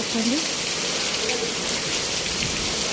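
Heavy rain pours down in a dense, continuous hiss, drumming steadily on surfaces nearby.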